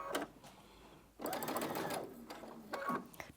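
A sewing machine stitches pieces of a puff quilt in quiet bursts, with a short run, a pause, then a longer continuous stretch of steady mechanical whirring.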